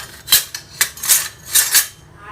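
A big spoon clinks against a pot, about five bright metallic taps in an uneven rhythm, close up and fairly loud, with quiet pauses between the hits.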